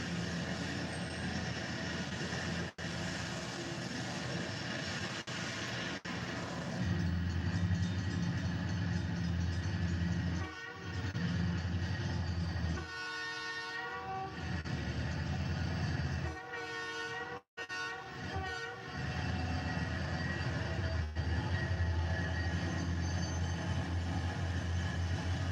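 A model grain train running on its track, a continuous rolling rumble with mechanical hum, brief dips and a few squealing, whistle-like tonal passages, steady and fairly close with no voices.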